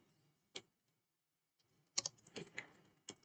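Keystrokes on a computer keyboard while entering text in a Jupyter Notebook markdown cell on Windows: a lone click, a pause, then a quick irregular burst of several taps, close and fairly quiet.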